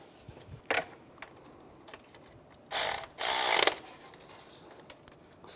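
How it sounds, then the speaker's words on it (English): A hand ratchet tightens a nut during a clutch kit replacement on a 2005-2010 Chevrolet Cobalt, with one short click burst followed by two longer bursts of rapid, close ratcheting. "Get that one started, tighten that down."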